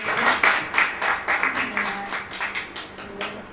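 A crowd applauds at a book launch and poetry gathering with dense, steady clapping that gradually thins and fades, heard at moderate distance without talk.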